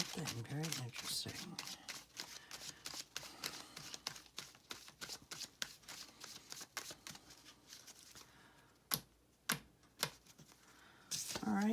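Tarot cards are shuffled by hand in a steady run of soft, rapid riffling clicks and slaps, close and fairly quiet, ending in a few sharp distinct snaps.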